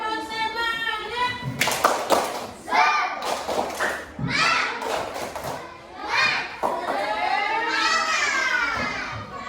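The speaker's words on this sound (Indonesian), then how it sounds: "Tepuk semangat." Schoolchildren in an elementary classroom doing a rhythmic spirit clap, bursts of hand claps and thumps alternating with children's chanting voices, lively and close.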